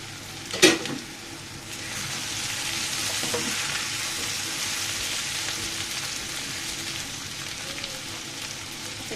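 Pumpkin, potato and cucumber pieces fry in a pan with a steady, close sizzle, opening with a sharp clank of a utensil, then an even frying hiss that holds for several seconds, no talking.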